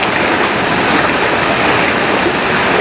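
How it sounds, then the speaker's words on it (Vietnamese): Heavy rain pours during a storm in Vietnam, a steady, loud, unbroken hiss of downpour with no voices. "Mưa quá mưa."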